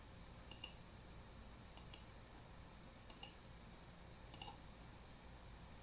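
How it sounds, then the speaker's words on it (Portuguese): A computer mouse clicking an OK button in a CAD program, sharp double clicks repeating four times at even intervals over a quiet background hiss, close and fairly faint, with no speech. "Clica OK."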